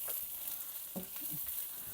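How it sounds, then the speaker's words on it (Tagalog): Garlic sautéing in a pot for spare ribs barbecue, giving a soft steady sizzle with a few faint stirring scrapes, fairly quiet and close. "I will saute the garlic."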